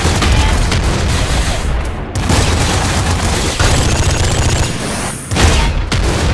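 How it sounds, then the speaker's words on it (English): Dense, continuous flame shotgun gunfire from the video game Nuclear Throne: loud, rapid overlapping blasts with booming low rumble that barely lets up, with a couple of brief dips in the barrage. "I love the flame shotguns."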